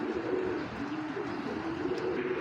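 Pigeons coo softly in a low, rolling, repeated murmur that continues throughout at a moderate distance, with faint background noise and no voices.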